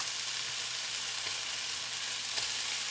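Brussels sprouts sizzle loudly in a hot pan, a steady, dense frying hiss close by with faint stirring clinks and no talk.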